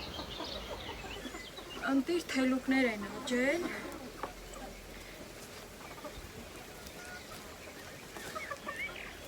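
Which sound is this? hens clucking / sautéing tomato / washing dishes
hens clucking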